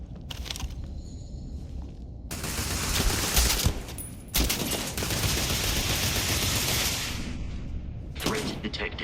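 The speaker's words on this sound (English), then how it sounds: "Opening fire." Sustained weapon fire in Starfield, with heavy continuous bursts and a few sharp impacts, loud and close, broken by brief gaps and a final burst.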